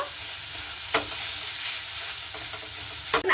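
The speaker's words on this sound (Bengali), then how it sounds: "আলুটাকে দিয়ে আর ডিমটাকে দিয়ে খুব ভালো করে নাড়াচাড়া করে নিতে হবে" Potato and egg pieces with turmeric are stirred in a frying pan, a loud steady sizzle with a few scraping strokes of the spatula and a clatter at the end.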